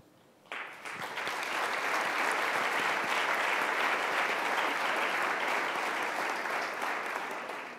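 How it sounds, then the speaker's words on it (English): An audience at a Michigan veteran hiring event bursts into applause for Coast Guard veterans standing to be recognized. The clapping starts abruptly and swells into a loud, dense, sustained round that holds steady to the end. "if the rest of us could give a big round of applause."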